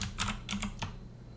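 Keys on a computer keyboard clicked in a short irregular burst of a few taps, close and fairly quiet, with no talking.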